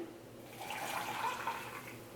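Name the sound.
pouring hot water into tea shaker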